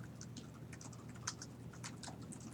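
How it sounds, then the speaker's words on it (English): Quiet, irregular tapping of keys on a computer keyboard during an elementary math class, a run of light clicks at a moderate pace over low room hum, with no talk. "I'm gonna go slow, I'm typing too."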